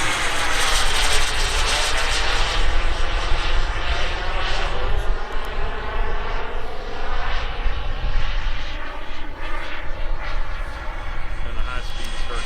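An RC turbine jet airplane passes overhead with a loud, steady jet roar whose whine sweeps up and down as it flies maneuvers, while people talk over it.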